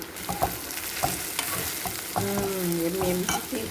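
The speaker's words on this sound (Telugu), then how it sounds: "సో కలుపుకుందామా." Spicy okra (bendi) fry being stirred in a pan with chilli powder, a steady sizzle broken by repeated scraping strokes of a spoon, close and clear with no talking.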